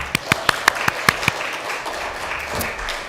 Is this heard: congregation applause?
yes